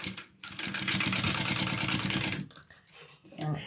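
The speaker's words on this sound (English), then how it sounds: "it sounds like my bobbin is running low" A sewing machine stitches in a rapid, even mechanical rattle for about two seconds, then slows to a stop with a few softer clicks and handling noises; the bobbin is running low.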